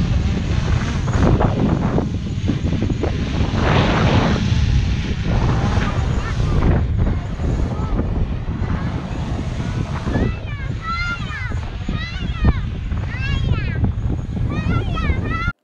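A small drone flies on a hilltop in roughly 30-knot wind, steady broadband wind rush dominating near the mic, with a high whining tone rising and falling toward the end under sparse talk.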